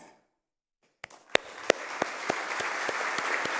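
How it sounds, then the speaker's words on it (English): Audience applause at a SEPTA awards ceremony as the organization's original founders rise: after a brief silence, scattered claps quickly swell into steady, dense clapping from a full room. "Will any of our original founders of SEPTA who are here tonight please rise for a round of applause?"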